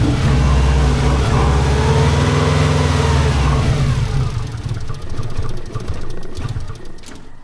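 A 90s Japanese turbocharged AWD car, a barn find that won't idle, runs loudly and unevenly with throttle feathering, its engine note wavering and slowly dropping, echoing off barn walls.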